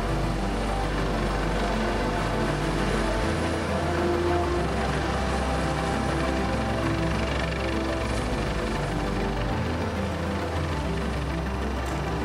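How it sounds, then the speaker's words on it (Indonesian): Indonesian Navy Panther helicopter on a medical air evacuation at sea, its rotor and engine drone loud and steady throughout with a pulsing low throb and no voices. "Evakuasi udara medis yang dilakukan helikopter Panther TNI Angkatan Laut berhasil dan sukses berjalan dengan aman"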